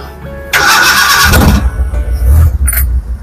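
A Suzuki Futura minibus engine cranks with a short, loud whirring starter burst, then catches and settles into a close, rough, steady idle.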